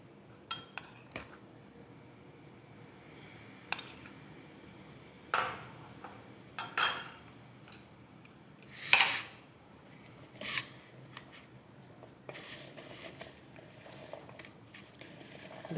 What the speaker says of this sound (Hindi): देखिए इस तरह से आप सब चीज़ों को भिंडी पे कोट कर लें